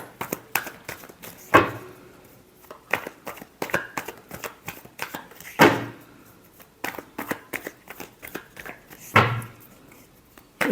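Tarot cards being shuffled by hand in a few separate bursts, with softer taps and handling sounds between them, close and fairly quiet.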